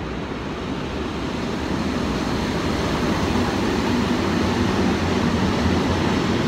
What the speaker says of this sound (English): Oh, there's a freight train going through.